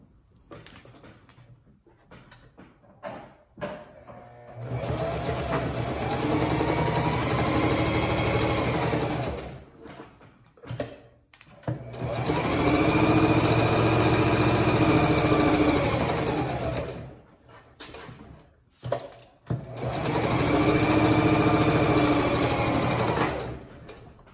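Sewing machine running basting stitches on a fabric notebook cover, in three sustained bursts of steady mechanical whirring separated by short pauses with small handling clicks.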